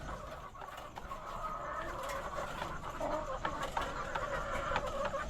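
Laying hens cluck and murmur in a coop on a small farm, several birds overlapping in a steady, close, moderately quiet chorus with no talk.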